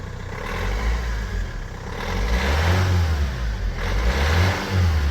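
A van engine with a turbo runs steadily and then revs up in two swelling surges, a loud, close mid-pitched drone that never drops out, with no voices.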